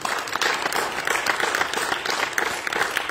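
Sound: congregation hand clapping

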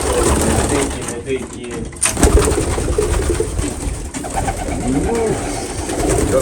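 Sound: pigeons cooing in a pigeon loft

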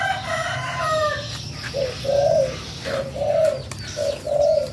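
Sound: pair of birds calling

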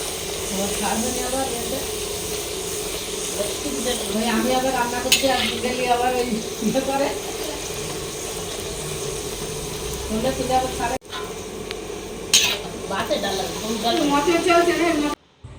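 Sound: stirring and sizzling khichuri with mixed vegetables

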